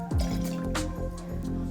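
Half an ounce of freshly squeezed lemon juice drips and splashes into a cocktail shaker for a green tea-infused vodka cocktail, a short, close, wet pour.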